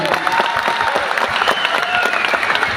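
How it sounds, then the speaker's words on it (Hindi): Loud, dense audience applause fills the room continuously, with a faint crowd murmur and a few cheers mixed in. "मैं चाहूँगा एक बार जोरदार तालियां उनके लिए।"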